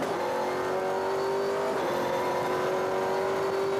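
A V8 SuperTourer race car engine, heard onboard at Taupo, holds a loud, steady, high-revving drone throughout, close and unbroken, with no voices over it.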